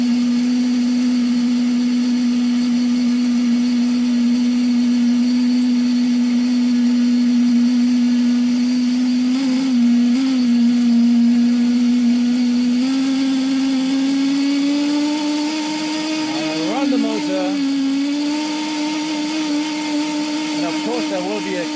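A drone motor running with reversed ignition gives a steady, loud electric whine at a constant pitch that wavers and dips briefly near the end.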